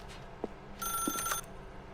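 A telephone rings in The Stanley Parable video game. It gives one short burst of bright, trilling electronic ring, preceded and followed by faint isolated knocks.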